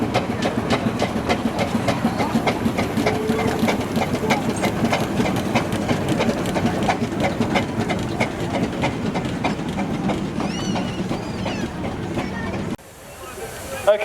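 Three-speed Burrell steam traction engine at a steam rally, chuffing and clanking in a steady fast rhythm close by, with crowd noise and voices mixed in, cutting out abruptly near the end.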